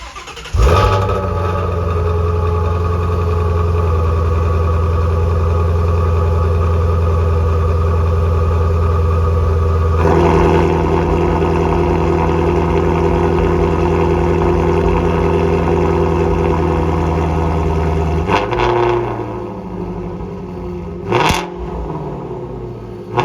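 Shelby GT350 fitted with an MBRP resonator-delete exhaust fires up and idles with a deep, loud rumble, the pitch shifting as the engine settles, with no talk over it.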